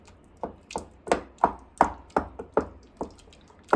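Pressure-cooked cauliflower, carrot and potato for pav bhaji are mashed in a pot, making soft, wet, squelchy thuds in a steady rhythm of about three per second, with no talking.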